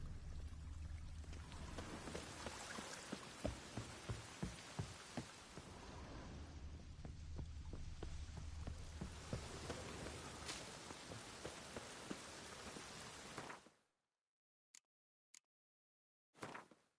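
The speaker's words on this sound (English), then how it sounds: "Looks like rain." Steady rain hisses and patters for most of the clip, with scattered drop impacts, then cuts off abruptly into near silence with a few brief clicks.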